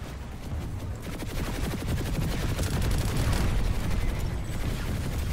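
Rapid automatic gunfire in the online shooter PlanetSide 2, a dense fusillade of overlapping shots over a deep rumbling battlefield din, loud and sustained for several seconds with no voices.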